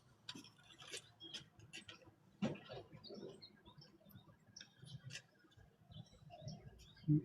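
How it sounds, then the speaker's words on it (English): Scattered faint bird chirps sound outdoors at a distance, irregular and sparse against a quiet background. "Birds are relaxing though."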